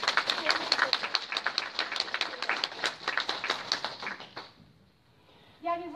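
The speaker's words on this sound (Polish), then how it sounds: "Jeszcze raz może przywitajmy oklaskami gościa." An audience claps to welcome a guest: dense, bright applause that holds steady for a few seconds, then thins and fades out, followed by a voice starting to speak.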